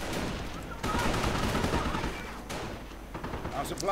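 Sniper gunfire in a war strategy video game, with scattered distant shots and crackling battle noise mixed under a voice speaking throughout.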